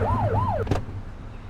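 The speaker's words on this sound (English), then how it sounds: "Get on their tail and flip the siren." A police car siren is switched on in the video game The Precinct, giving a quick rising and falling wail for about half a second before cutting off with a short burst over a steady engine hum.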